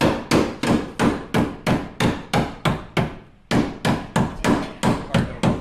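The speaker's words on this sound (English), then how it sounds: "Oh, I hear a hammer going." Steady, rhythmic hammer blows ring out on metal during custom truck fabrication, about two strikes per second, loud and close, with a brief pause midway before the pounding resumes.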